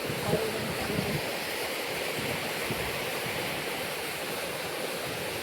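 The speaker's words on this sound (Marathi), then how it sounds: "तर आता आमचे धबधबा वगैरे बघून झाले" Waterfall in the Pitalkhora valley roars as a steady broadband rush of falling water, continuous and moderately loud with no talk.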